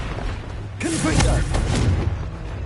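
A Confringo spell blast in the video game Hogwarts Legacy, with a sudden whooshing burst and booming impact that trails into crackling rumble, all fairly loud and close.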